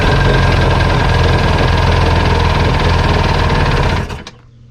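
An old, long-unused jet ski engine runs with the choke on, a loud, fast, buzzing idle close by that suddenly cuts out near the end, leaving near silence.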